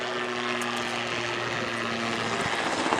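Little Nellie, the autogyro from the James Bond film You Only Live Twice, flies at the Blackpool Airshow, producing a steady droning propeller engine with a sustained low hum, fairly loud and continuous.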